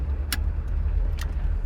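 A 1954 Oldsmobile Super Rocket 88 rolls along with a steady, low engine rumble and road drone, plus a couple of brief light clicks over the continuous hum.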